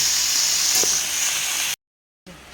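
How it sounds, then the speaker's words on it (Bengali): Fenugreek greens are stirred in a hot pan, producing a loud, even sizzling hiss with a soft stirring knock before the sound cuts off abruptly. "শাকটা একটু ভালো করে নেড়ে নেব"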